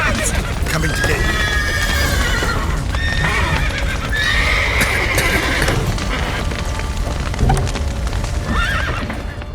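Horses in The Witcher 3 video game whinny and neigh repeatedly while hooves clip-clop beneath, loud and close, with a busy background of crackling and commotion.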